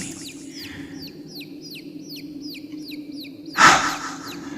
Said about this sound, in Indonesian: Ada suara anak ayam di gunung seperti ini.